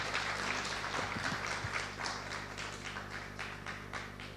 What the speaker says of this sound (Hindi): मैं चाहता हूं कि एक बार तालियों की गड़गड़ाहट के साथ उनका स्वागत किया जाए।